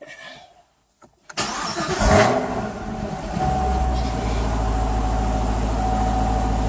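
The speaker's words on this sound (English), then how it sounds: "ZL1 sure sounds nice when you start her up" A 2017 Chevrolet Camaro ZL1 engine cranks and fires up with a loud roar, then settles into a deep, steady rumbling idle close by.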